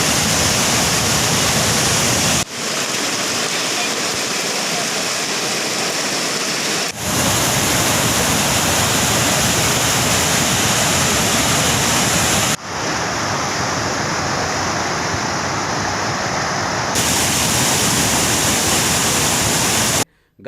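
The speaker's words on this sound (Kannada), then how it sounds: "ಕೊಡಿಕಣ್ಣೂರು ಕೆರೆ ತುಂಬಿ ಹರಿಯುತ್ತಿದ್ದು" Flood water from the overflowing Kodikannur lake rushes in a loud, steady roar, continuous across several cuts with no voices.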